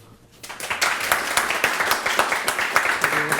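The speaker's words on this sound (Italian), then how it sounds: "il pubblico a casa, ragazzi, Galilei, me lo fate sentire un applauso." A group of students claps together in applause, starting softly and quickly building into steady, rhythmic clapping with a slight mechanical regularity, close and bright.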